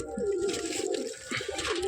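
Pigeons coo nearby in a soft, continuous low warble, with gentle rises and falls and no talking over it.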